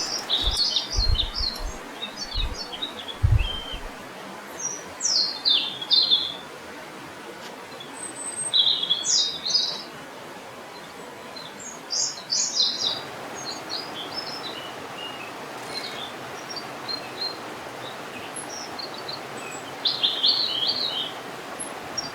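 An oriental dwarf kingfisher near its chicks in the Western Ghats of India gives a series of short, high, sharp chirps in scattered bursts. A few low thumps come at the start, and faint insect hiss sits underneath.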